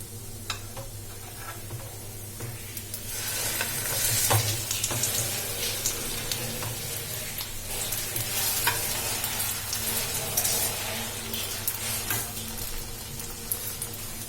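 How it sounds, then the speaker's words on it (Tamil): Pieces of bread snack fry in hot oil in a pan, a steady close sizzle with brief crackles running throughout. "இப்ப ரெண்டு பக்கமே நல்லா ஃப்ரை ஆயிடுச்சு"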